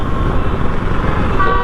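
Busy Indian city traffic in summer heat, a dense roar of road noise and engines with a car horn tooting briefly near the end, loud and close.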